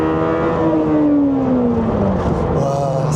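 Lamborghini Temerario engine in third gear climbing toward its 10,000 rpm redline in Corsa mode, a loud continuous high-pitched wail with a rising then easing harmonic sweep, heard close without talk.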